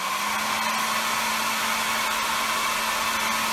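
A hair dryer blows steadily on a toy's color-changing hair, a loud, continuous whirring rush with a constant motor hum and no pauses.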